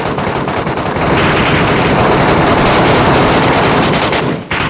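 Sustained automatic gunfire in the Metro Royale video game during a big firefight, a loud, unbroken barrage of close machine-gun shots filling the whole stretch before a brief cut-off near the end.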